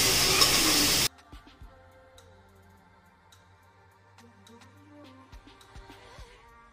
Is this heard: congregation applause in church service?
no